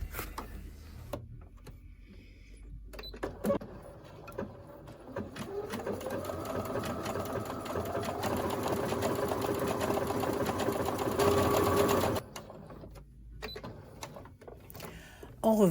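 Clicks and short handling noises give way to a domestic sewing machine fitted with an overlock-style presser foot, which whirs steadily for several seconds and then stops. Quiet speech can be heard around it.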